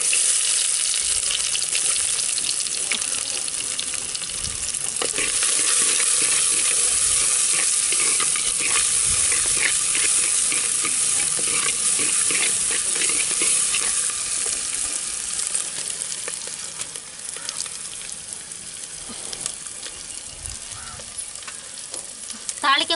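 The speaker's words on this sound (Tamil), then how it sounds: "இப்போ வெங்காயத்தை சேர்த்துக்கலாம்." Onions frying in hot oil with fenugreek seeds in a pan for a village vegetable curry, giving a loud, steady sizzle with scraping stirs throughout and no talk.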